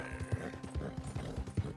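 A Kentucky Saddler horse ridden in a video game sounds with steady, rhythmic hoof clip-clops, close and evenly spaced over a soft background hum.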